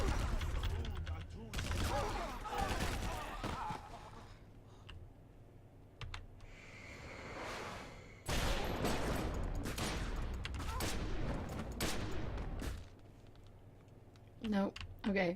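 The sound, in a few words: shooting enemies in Secret World Legends video game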